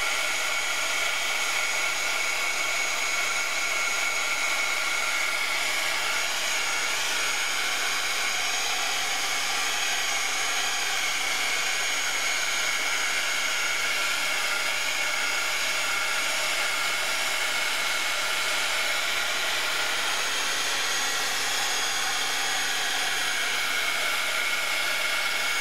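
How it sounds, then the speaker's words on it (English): A hair dryer blows steadily on a watercolor painting, also warming the masking tape along its edge, a continuous loud broadband whoosh lasting the whole stretch with no talking. "Okay, hold on, I'm going to dry this."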